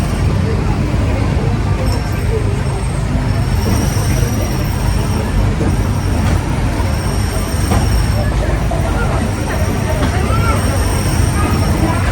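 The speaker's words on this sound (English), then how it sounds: "Please remain seated until the train comes to a fully complete stop." A Disneyland Railroad train rolls along its tracks with continuous rumbling and clatter and a faint wheel squeal, while an onboard announcement voice talks over the ride noise.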